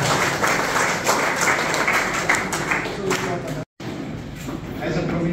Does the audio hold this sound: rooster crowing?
no